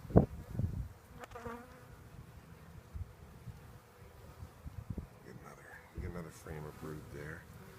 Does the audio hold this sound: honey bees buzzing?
yes